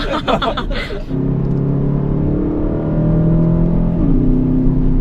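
Aston Martin rear-engine car driving on narrow roads in Japan, its engine droning loudly and steadily from behind; people talk over the opening second before the engine sound fills the cabin and swells slightly.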